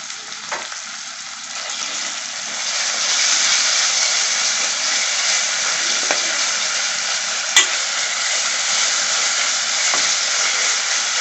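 Chicken kurma frying in a pan is stirred after ginger garlic paste and turmeric go in, a steady close sizzle with soft scraping strokes and a few sharper clinks of the spoon against the pan.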